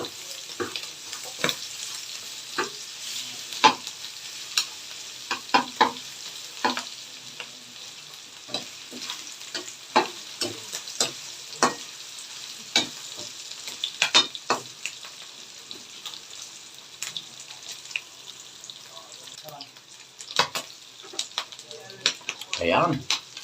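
A large amount of garlic fries in oil for a home-cooked pork dish, a continuous sizzle broken by repeated sharp clinks and scrapes of a spatula against the pan.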